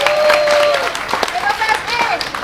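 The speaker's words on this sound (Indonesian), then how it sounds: "Denny, sama si Sheryl dan juga jajaran PSI, kita berikan tepuk tangan yang meriah." A crowd at a political party gathering in Indonesia applauds loudly and steadily, with a voice speaking or calling out over the clapping.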